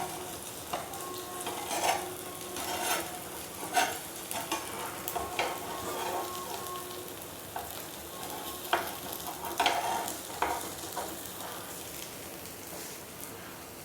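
A leftover-rice breakfast frying in oil in a pan, a steady soft sizzle with occasional stirring scrapes and clinks of a utensil nearby, no voices.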